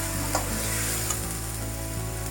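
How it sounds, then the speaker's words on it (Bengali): Spice paste for a meat curry frying slowly without water, a steady close sizzle with occasional soft stirring knocks throughout. "মশলাটা খুব সুন্দরভাবে ধীরে ধীরে কষানো হচ্ছে।"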